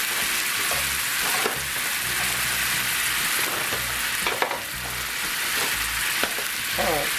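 Flour roux is stirred in a very hot cast iron skillet on a grill. A constant loud sizzle runs throughout, with intermittent scraping stirs rising above it.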